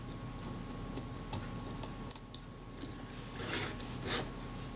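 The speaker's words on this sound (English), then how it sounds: "This is peeling off quite well. The adhesive is fairly brittle and giving way easily." Brittle old adhesive peels away from the base plate of a Retina Reflex III camera in a quiet run of small crackles and ticks, a few sharper snaps among faint rustling.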